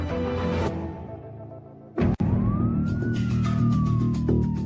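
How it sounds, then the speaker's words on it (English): An ambulance siren wails loud and close over steady traffic rumble, broken by a sharp burst of noise, then a single long rising-and-falling tone sweeps through the rest. "As the ambulance sirens faded into the distance"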